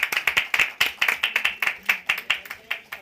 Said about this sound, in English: Can we begin with a huge round of applause?